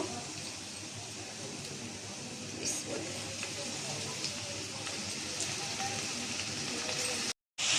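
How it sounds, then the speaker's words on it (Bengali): Chopped onion and green chillies fry in oil in a pan, giving a steady close sizzle and crackle with no pauses. "কাঁচামরিচ পেঁয়াজটা এখন আমি ভেজে নিব"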